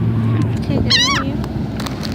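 A seagull gives one wavering, nasal call, moderately close, over steady outdoor background noise.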